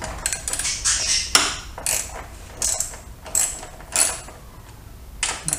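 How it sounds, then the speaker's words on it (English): Close ratchet clicking while removing bolts from the gas tank mounting plate of a 2005 Yamaha FJR1300 motorcycle, in short irregular bursts of crisp metallic ticks separated by brief pauses, with no talk. "Take the outer four bolts off first."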